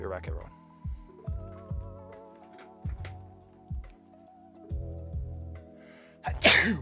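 A person talks quietly over a low hum, then a single loud, abrupt sneeze bursts out near the end.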